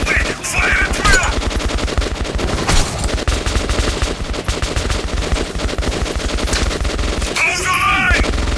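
Sustained rapid automatic gunfire in the video game Metro 2033 Redux, loud and dense with overlapping bursts throughout, with brief shouted calls near the start and end.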